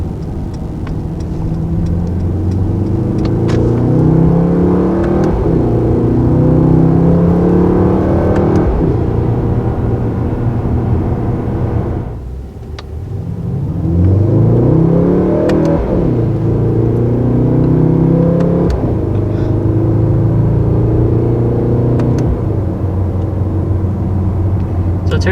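A 2019 Mercedes-AMG GT 4-Door sedan on the road, exhaust in quiet mode, its engine rising and falling through repeated accelerations and gear changes, with a brief lull midway, heard from inside the car without talking.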